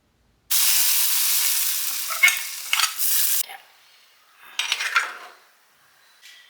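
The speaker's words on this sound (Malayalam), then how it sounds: "ഇനിയിപ്പോൾ വെളിച്ചെണ്ണയിൽ നമുക്ക് ചെറിയ ഉള്ളിയാണ് അത് അരിഞ്ഞത്" Chopped small onions dropped into hot coconut oil: a sudden loud sizzle bursts out and holds for about three seconds, with spoon scrapes and pan clatter, then fades to softer stirring and a brief second rush of frying.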